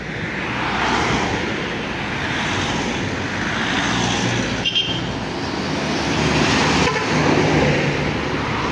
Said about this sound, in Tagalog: Sobrang dami ng mga nakamotor kanina pa